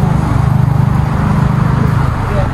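A lorry engine drones loud and close on a road near Batam Waterpark, a steady low rumble with a throbbing pulse that holds throughout the clip.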